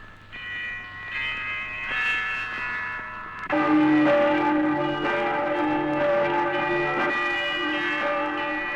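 Church bells peal on Easter morning, first a lighter ringing and then a fuller, louder clangor of several bells layered together, sustained and resonant throughout with no voices.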